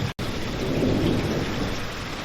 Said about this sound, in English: It rains a heck of a lot.